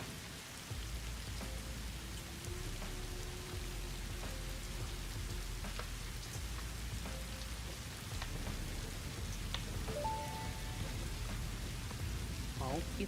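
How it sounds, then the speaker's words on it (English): Heavy rain pours in the factory-building video game Satisfactory, a dense, continuous hiss with scattered small ticks and tones from the game running underneath throughout. "it's pouring down rain"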